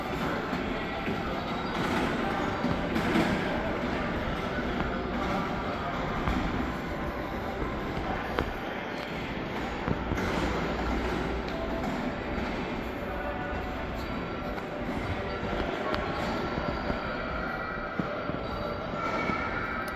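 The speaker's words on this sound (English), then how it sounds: "There goes the train." A train rolls past outside a dead mall in Lewisville, Texas, a continuous broad rumble with rattling cars and faint wheel squeal holding steady throughout, heard from some distance across open ground.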